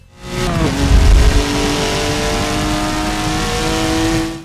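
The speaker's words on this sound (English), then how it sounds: "Every engine roars." A race car engine in the video game Forza Motorsport 7 roars and revs up sharply, then holds a loud, steady high-pitched drone before cutting off, with no talk.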